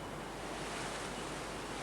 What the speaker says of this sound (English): The roar of the wind drowns any chance of them hearing a dingo